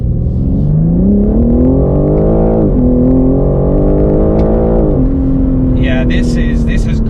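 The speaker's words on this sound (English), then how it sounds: "the way this S58 engine dumps that torque down" A BMW G80 M3 Competition's S58 engine pulls hard under acceleration, its loud rising drone stepping up through two gear changes with brief dips, heard from inside the car with chatter and a faint high rattle near the end.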